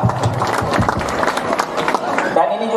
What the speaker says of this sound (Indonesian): Kasih kita tepuk tangan.